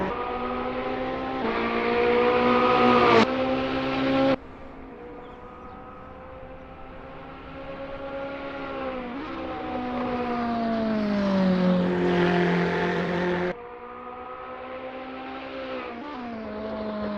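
Ferrari 488 GT3 race cars lapping Brands Hatch GP in a sim racing game, a steady high-revving engine whine rising and falling through gear changes, with a sharp shift blip and a tone drop near the end.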